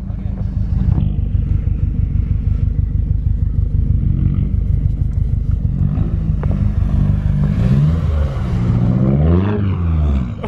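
A Subaru STI pushed hard through a snowstorm, its engine droning loud and constant from inside the car with rising and falling revs, while people talk over it.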